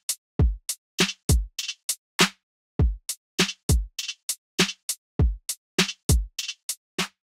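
Simple programmed drum loop in Groove Agent, with punchy kick, snare, clap and crisp hi-hats repeating in a steady, evenly spaced pattern, clean and dry with no voices.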